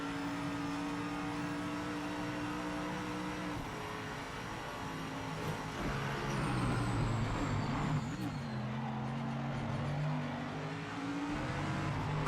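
Race car engines in the sim racing game Project Motor Racing hum steadily throughout, with pitch sweeps and revving as cars accelerate and shift, one engine note climbing and warbling mid-clip before settling back.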